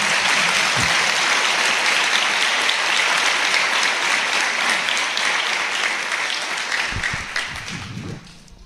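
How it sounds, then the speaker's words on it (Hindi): Members of a Hindi-speaking church congregation clap for Jesus in long, loud, sustained applause from many hands, which holds steady for most of the time and then tapers off, with a few low thumps near the close. "यीशु के लिए ताली बजाएं।"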